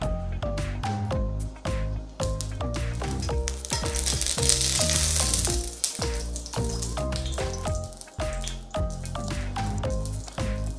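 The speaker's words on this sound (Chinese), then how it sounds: "你見咧嗰個乾葱頭咧開始咧卜嗰啲油咧開始滾啦" Shallots bubble and sizzle in hot oil in a deep frying pan with wood-grain sides, a continuous crackling hiss that swells midway, heard beneath a melodic background of repeated tones.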